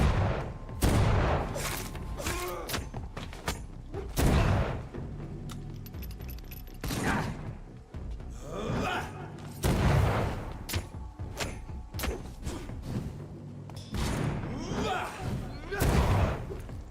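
Gunfire in the vampire action game Vampyr: several heavy, booming shots ring out at irregular intervals, loud and close, with thuds and clatter between them and someone talking over parts of it.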